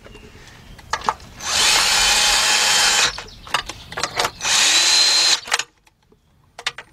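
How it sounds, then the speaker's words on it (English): A cordless drill whirs in two sustained bursts of a couple of seconds each, loud and close, during oil pan gasket work on a 2002 BMW 745i 4.4, with clicks and handling knocks between and after. "I'm going to be using my cordless drill here"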